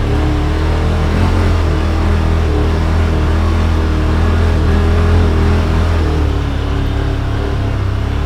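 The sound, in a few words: Yamaha Wolverine RMAX2 1000 side-by-side engine driving in crawl mode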